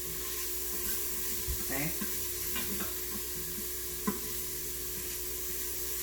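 Bacon sizzling in an Instant Pot while being stirred, a soft steady fry with scattered scrapes and a sharp knock, with a brief spoken word.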